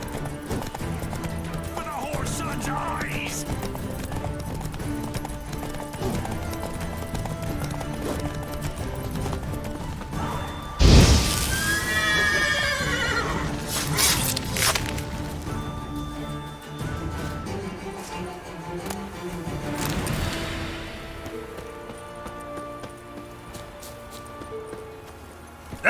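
Roach, a horse in The Witcher 3, clip-clops at a steady gallop through game audio with background music, with a sharp burst of movement and a whinny around the middle.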